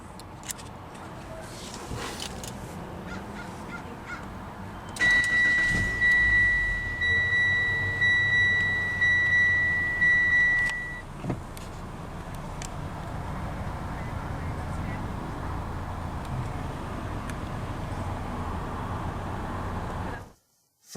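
A 2018 Mitsubishi Outlander Sport SE starts up: a steady electronic chime sounds inside the cabin as the engine catches, then the engine settles into a smooth, continuous idle.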